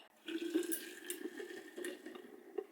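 Coffee poured over chilled metal balls makes a soft, steady trickle and splash with faint tinkling, close and quiet for a few seconds.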